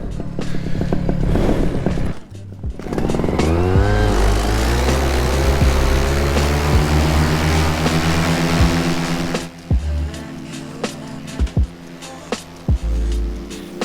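Atom 80 paramotor engine running in flight in warm, humid air, a loud buzzing drone that rises in pitch and holds steady, then cuts back to brief blips near the end.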